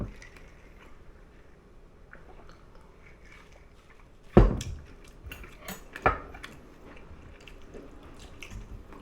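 Cutlery clinks against dishes during a meal of hot soup broth, with two sharp, close clinks standing out over quiet, soft chewing and rustling.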